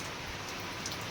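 Steady rain falls in the evening with a continuous, even hiss of drops on surfaces and no voices.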